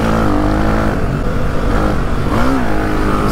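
A Suzuki DR 350 trail motorcycle engine pulling hard in fifth gear, a loud, close, buzzing roar with wind rush and slight rising pitch, steady throughout.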